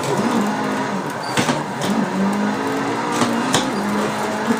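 A Nissan 180SX engine in Assetto Corsa bogs and strains on a mountain touge drift run, with a wavering, struggling engine tone broken by a few sharp transient bursts.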